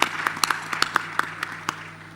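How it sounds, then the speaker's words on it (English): A small conference audience gives scattered, sparse applause to welcome the ECOWAS Commissioner, a dozen or so distinct claps with uneven rhythm over a low steady hum, tapering off toward the end. "let's welcome him with a round of applause"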